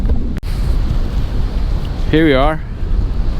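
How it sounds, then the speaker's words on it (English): Loud, continuous wind buffets a microphone outdoors, a heavy low rumble with gusty surges. A voice briefly speaks partway through. "I'm sure you guys are tired of listening to that wind"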